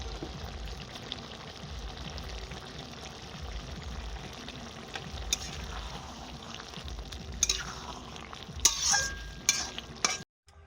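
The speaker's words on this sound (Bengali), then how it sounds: "টকটা তো ফুটে গেছে, এখন মাছ দিয়ে দিচ্ছি, গাংচুনো।" Small river fish (gangchuno) tipped into a boiling sour tamarind-leaf curry, with a continuous bubbling simmer and stirring, then sharper splashes and clatter near the end before a sudden cutoff; no speech.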